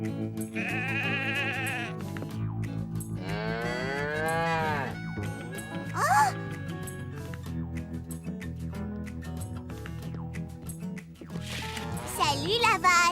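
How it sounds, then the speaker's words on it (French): A cartoon cow moos several times, long drawn-out calls with lively music underneath, followed by a brief bleating animal call and then more moos near the end. "Salut la vache."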